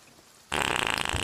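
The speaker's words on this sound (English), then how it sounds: "And why are you farting?" A player character in the pirate game Sea of Thieves lets out a fart. It starts abruptly after a quiet moment and becomes a loud, buzzy, sputtering blast that lasts nearly a second.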